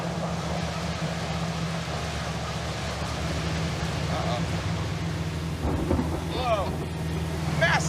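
Heavy rain and thunder batter a car driving a flooded highway in a storm, a steady loud wash with a low engine drone underneath and voices talking over it.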